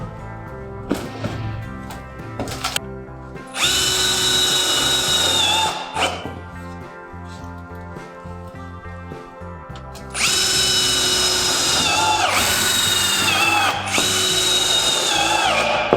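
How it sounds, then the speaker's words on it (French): A power drill drives screws into Tuilacier steel roofing panels on a chalet roof, giving loud whining bursts that stop and restart with short pauses, close by and with no talk. "Et on essaye de visser toutes les ondes."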